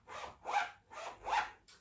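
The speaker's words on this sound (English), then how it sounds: "I've got a pencil case with a zip, which makes this sound when I open and close it." A pencil case zip is pulled open and closed in four quick rasping strokes at close range, each a short scratchy burst with brief pauses between, heard alone in a quiet room.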